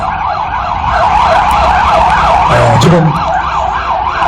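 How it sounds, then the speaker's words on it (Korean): Seven or eight fire trucks pass along a city street with loud, wailing sirens cycling steadily up and down, engine rumble beneath, and a brief spoken word partway through. "소방차가 지금 어디 한 7, 8대 어디 지나가고 있습니다."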